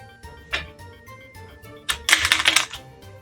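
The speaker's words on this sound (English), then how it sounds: "I'm going to ask my volunteer to shuffle the cards." Quick papery riffling and clicking of cards being shuffled, a short tap early on, then a dense burst of rapid flicks near the end.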